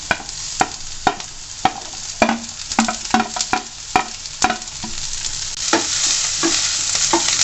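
Capsicums and garlic stir-fry in a hot pan over a high flame, a steady sizzle broken by sharp scraping stirs and clacks of a spatula at an irregular, quick pace.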